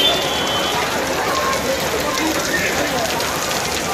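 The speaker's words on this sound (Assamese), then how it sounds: "দিল্লী পুৰা বৰষুণ দিছে আজি" Heavy rain falls in Delhi as a dense, constant hiss of drops on surfaces, loud and close, with no breaks across the few seconds.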